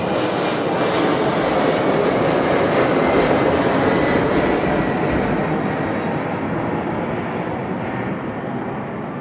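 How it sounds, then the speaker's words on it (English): Embraer 175 or 190 jet taking off from Heathrow runway 09R, a loud, continuous roar of engines that stays heavy throughout and fades slightly at the end, with no voices. "I think that's an Embraer, isn't it? 175 or okay, 190 is it?"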